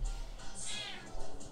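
A pet cat gives one short, close meow, heard alone with faint background hum.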